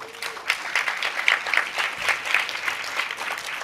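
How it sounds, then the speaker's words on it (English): A crowd gathered for remarks by Martin O'Malley gives a round of applause, a continuous patter of many hands with sharper individual claps standing out, moderately loud and sustained throughout. "I think that deserves a round of applause."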